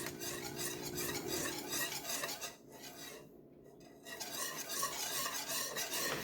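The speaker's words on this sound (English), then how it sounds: "Keep stirring it so it doesn't stick." A utensil stirring sweetened condensed milk in a pan, steady scraping and rasping against the metal close by, briefly pausing twice before resuming.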